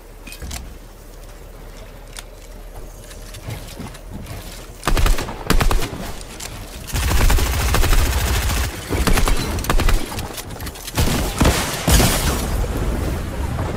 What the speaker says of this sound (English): I just hit everybody with that rocket